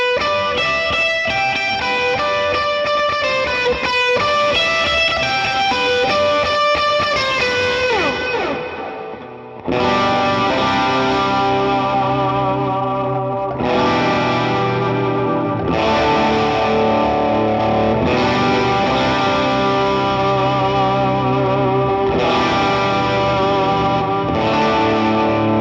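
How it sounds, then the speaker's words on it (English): Electric guitar lead lines through a Fractal FM9 with stereo amps, drenched in echoing delay and reverb, loud and continuous, with distorted sustained notes ringing out and a brief dip midway. "So let's hear some delay, and we'll turn on the reverb"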